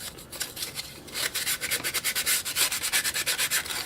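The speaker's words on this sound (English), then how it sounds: "I like to go over all the edges, all the square edges with a piece of sandpaper to make everything just kind of flow together and deburr it" Sandpaper worked by hand over the square edges of a Cessna 170 build part to deburr them: close, dry rasping strokes that begin slowly, then settle into a steady, quick back-and-forth rhythm of about seventeen strokes.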